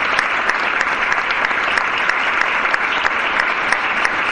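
Audience at the opening of a historical colloquium in Extremadura applauds in memory of Pepe Lozano, a sustained, even wall of many hands clapping with no talk over it.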